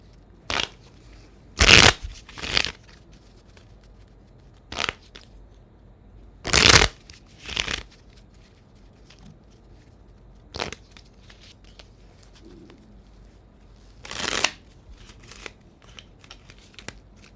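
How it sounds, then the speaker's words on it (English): Cards are shuffled in several separate bursts, each a brief crisp riffling rattle, close by, with quiet pauses between them and no voices. "Let me shuffle this up a bit better."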